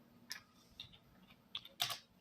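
Keys on a computer keyboard are tapped a few times at an uneven pace during data entry in Microsoft Excel, with faint, sparse clicks and no talking.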